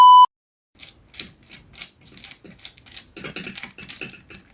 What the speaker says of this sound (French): Donc je vais commencer par dévisser.